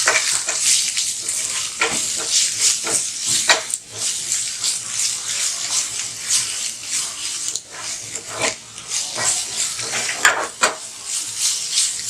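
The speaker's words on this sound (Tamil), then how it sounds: "இது கலக்கி விடுங்க." Cauliflower with green chillies, chilli powder and salt frying in a pan is stirred, giving a steady bright sizzle broken by repeated scraping strokes of the spoon, close and fairly loud, without talk.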